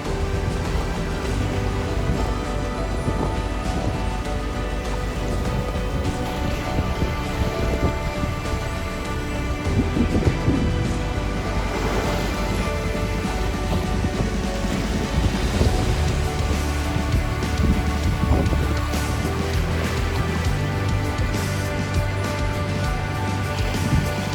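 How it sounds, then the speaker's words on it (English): Steady broadband rush of strong 15 to 20 knot wind at sea aboard a sailboat, with water wash and flapping noise filling the whole stretch, fairly loud and continuous with gusty swells, no talk. "We've got some 15 till 20 knots of wind behind us."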